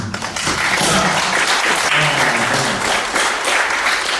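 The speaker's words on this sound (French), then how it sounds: "Applaudissez quand même pour vous." A crowd claps continuously in loud, dense applause, with a few voices faintly mixed in.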